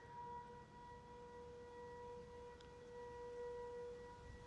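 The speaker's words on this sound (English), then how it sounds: "there is a really loud like siren or something" A steady, faint siren drones in the distance, holding a constant wailing pitch over low background rumble.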